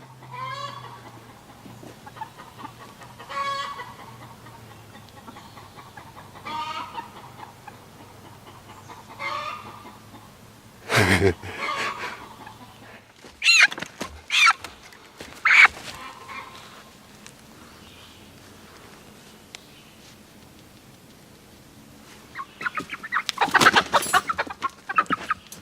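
Young homestead chickens in a cage cluck and squawk in scattered bursts, some sharp and loud, with quiet gaps between and a livelier flurry near the end.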